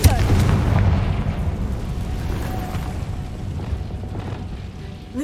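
Booming explosion of the Confringo fire spell in the game Hogwarts Legacy, a heavy low blast with a rumbling tail that fades over several seconds, with faint game ambience underneath.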